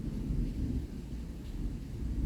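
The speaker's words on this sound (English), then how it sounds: "Got some thunder in the background, lovely." Low, continuous thunder rumbling in the background, a soft, steady distant roll with faint rain hiss and no talking.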